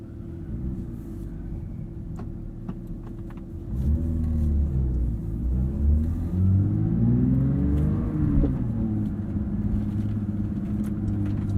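A 2022 Porsche 911 GT3 with a manual gearbox drives along, its engine note a steady rumble that rises and swells with acceleration partway through and stays loud, with shifting harmonic sweeps as revs climb and fall.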